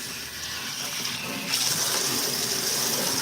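Vintage hats being rinsed under a running tap, with a steady gush of water that grows louder and brighter partway through as the flow strengthens, close by and with no talking.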